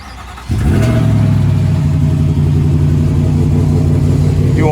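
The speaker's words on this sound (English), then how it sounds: "Let's do a little cold start here, see what it sounds like." A Ford pickup truck engine cold-starts about half a second in, catching with a loud surge and then settling into a steady, close, rumbling idle that continues alone to the end.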